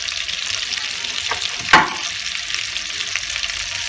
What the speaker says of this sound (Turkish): yağımızı hafif yakıyoruz. Hemen birazcık tuz ilave ediyoruz sıçramaması için